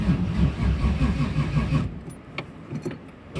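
A Ford Mustang engine fires up for the first time after a rocker arm adjustment, running loud and close with an uneven idle rumble that drops back and settles, joined by a few sharp ticks near the end.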